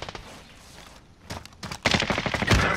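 Video game gunfire in a squad match crackles in rapid bursts, starting faint and sparse, then turning into a louder, dense volley of close shots toward the end.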